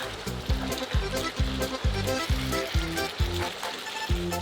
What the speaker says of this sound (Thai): แล้วก็ผัดให้ใบกะเพราพอสลด